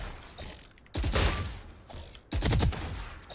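Gunfire in a shooting game's aim-training mode: two loud bursts of rapid shots, each a sharp attack with a ringing tail, separated by a quieter gap of low mechanical noise.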